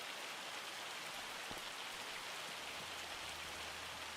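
Hail hitting a car in the Farming Simulator 25 video game, heard as a soft, continuous patter like rain on the roof, faint and even, with a low hum rising near the end.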